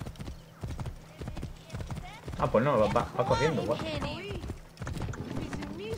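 Horse hooves clip-clop at a gallop in Assassin's Creed Origins, a steady rhythmic patter close by, with whinnies and loud game music rising midway while people talk over it.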